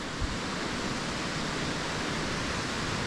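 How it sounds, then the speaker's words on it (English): A steady, dense roar of falling water fills the scene, broad and unbroken like a nearby waterfall, with no voices. "there's the waterfall"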